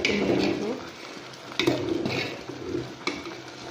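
Sago cooking in a pan is stirred with a utensil, giving soft scraping strokes and a few sharp clinks against the pan over a gentle sizzle, close and fairly quiet.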